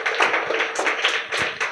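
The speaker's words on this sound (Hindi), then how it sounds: "तो एक बार जजेस के लिए जोरदार ताली।" An audience at a Show Your Skill competition final claps for the judges, making a dense, loud, continuous burst of applause with no speech over it.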